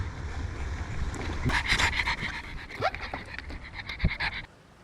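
A dog pants steadily and close by aboard a sailing catamaran being repaired, quick breathy huffs under faint background noise.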